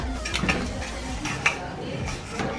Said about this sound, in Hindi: हम चावलों को हिला के देखते हैं।